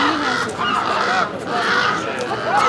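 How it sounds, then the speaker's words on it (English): Crows and ravens caw in an agitated, continuous chorus on Catalina Island as a falcon takes a seagull, with overlapping harsh calls that hold a steady, fairly loud level throughout. "Those are crows, actually. Crows and ravens. They're all upset."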